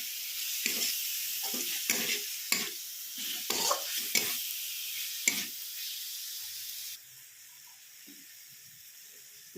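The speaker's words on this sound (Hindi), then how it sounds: "इन सभी मसाले को मीडियम फ्लेम पे हम अच्छे से भूनेंगे।" Ground spices including Kashmiri red chilli roasting over a medium flame while being stirred, a soft sizzle with a handful of scraping strokes close by, then the stirring stops and a quieter hiss carries on.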